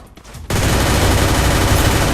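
An M60 machine gun in a mobile shooter video game opens up after a short quiet moment and keeps firing as one loud, continuous automatic burst to the end.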